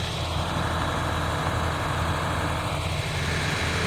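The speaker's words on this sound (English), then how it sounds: "sounds like he has that vacuum turned back on again on the truck" A vacuum pump on a septic service truck runs in a steady, loud, low drone with no talk, as at a drain field repair.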